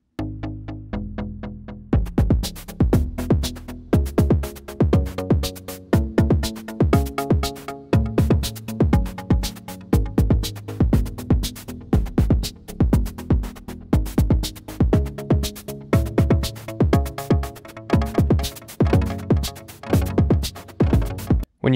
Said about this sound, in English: Here's a drum beat as an example.